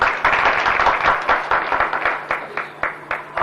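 Audience applause at an eye camp ceremony in Sonkatch, a dense burst of many hands clapping that thins into scattered, separate claps toward the end, with a faint steady hum underneath.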